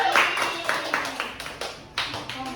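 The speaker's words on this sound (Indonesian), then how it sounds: "Berikan aplaus buat kelompok 2." Applause for a student group in a classroom micro-teaching session: a few people clapping in uneven bursts with separate sharp claps, fairly close and modest in volume.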